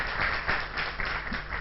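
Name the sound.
church congregation applauding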